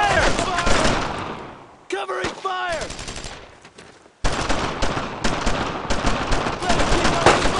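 Rapid, dense gunfire from the video game Brothers in Arms: Road to Hill 30, loud and near, with sustained bursts that break briefly for a few voice-like calls before heavy shooting resumes.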